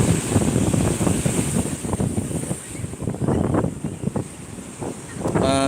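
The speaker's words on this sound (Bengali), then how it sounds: "এখন তো এত জল চলে এলো তোমরাও দেখলে তো জলের যে গতিটা দেখতে পাচ্ছ প্রচুরই রয়েছে যেহেতু এখন জোয়ারের টাইম" Sea waves surge in at high tide on Shankarpur beach in a continuous roaring wash with repeated swells, close and loud, mixed with wind buffeting the microphone.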